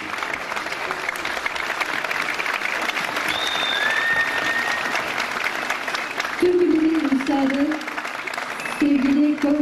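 Concert audience applauding steadily, a dense wash of clapping that swells a little, while a presenter's voice speaks over it toward the end.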